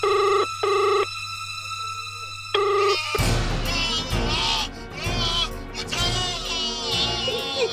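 A telephone rings in two loud electronic bursts with a short gap between them, then stops as people begin talking over background noise.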